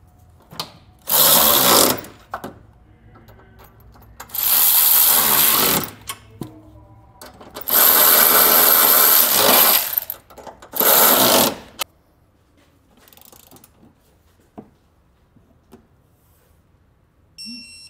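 Tightening the bolts on a trailer hitch receiver for a 2019 Ford with an 11/16 inch socket, heard as four loud bursts of rapid mechanical whirring, likely a power ratchet, separated by short pauses, with faint clicks after.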